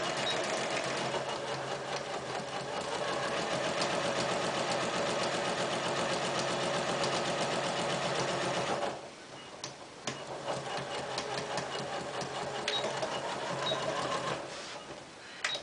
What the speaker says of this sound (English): I'm just going to go ahead and do a back stitch at both the top and bottom of this seam.